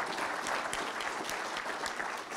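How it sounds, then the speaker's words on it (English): A crowd at a youth entrepreneur awards ceremony breaks into sustained applause, dense and even throughout, with no voices rising above the clapping. "let's have a big round of applause for our first youth"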